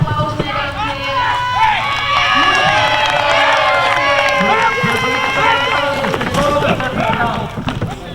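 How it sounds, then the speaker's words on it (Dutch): Crowd cheering and clapping at a horse driving marathon obstacle in Driezum, a lively, sustained roar of shouts and whistles from spectators, with a voice talking over it throughout. "Dus geef nog even een applaus mee"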